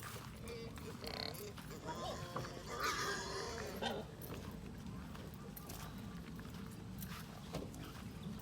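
Farm pigs are fed, with snorts, grunts and feeding shuffles close by, mixed with clatter and rustle, while a voice talks over the scene at times.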